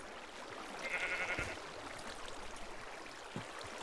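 Sheep bleating in a Minecraft-style game world, one short wavering bleat of moderate loudness over faint flowing water ambience, followed by quiet background noise.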